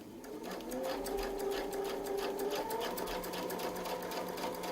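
A sewing machine stitches along a Westalee Mini Spin-e-fex template in a steady, rapid mechanical hum and patter, continuous throughout and heard up close without speech.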